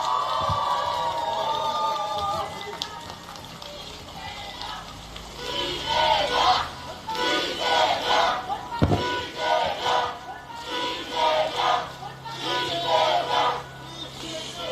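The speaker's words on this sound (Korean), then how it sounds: "힘찬 환호해 주시기 바랍니다" A crowd at an outdoor political campaign rally in Songpa, Seoul, cheers in rising and falling waves of shouts, following an announcer's voice heard at the start.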